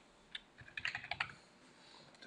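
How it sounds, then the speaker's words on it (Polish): Quiet burst of typing on a computer keyboard, a quick cluster of about a dozen light key clicks over roughly one second, faint and close, with no voices. "No i oczywiście wpisujemy nasz tekst"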